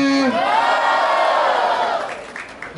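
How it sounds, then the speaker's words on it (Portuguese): A loud crowd at a rap battle cheers and shouts together, a sustained roar of voices that swells and then begins to fade near the end. "Barulho pra o sol com vontade, barulho pra quem gostou das rimas de THM"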